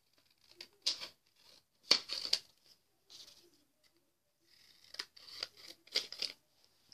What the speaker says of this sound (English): Okay, so we're gonna cut it.